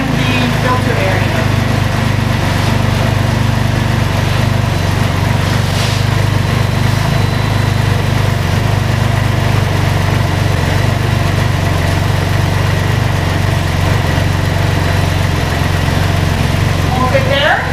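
A Can-Am Ryker 900 engine idles steadily while warming up, a loud continuous low rumble with a constant drone and no change in pace.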